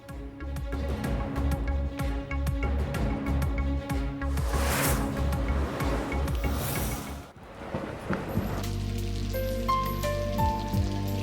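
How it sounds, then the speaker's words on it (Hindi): Monsoon rain falls in Islamabad and Rawalpindi, a steady dense patter on surfaces that continues throughout, mixed with a tonal background bed. "और मुल्क में मानसून बारिशों का आगाज।"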